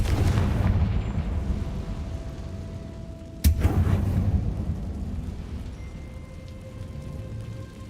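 A Confringo fire spell explodes in the video game Hogwarts Legacy: one sharp, loud blast about midway, over a dense, continuous rumble of in-game noise.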